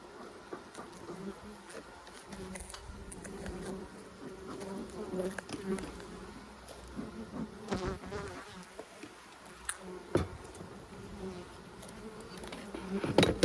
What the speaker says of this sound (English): There's lots of bees in there.